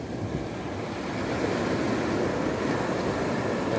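Waves washing onto the shore at Al Hail Beach in Muscat, Oman: a continuous broad surf roar mixed with wind buffeting the microphone, steady and fairly loud, with no voices.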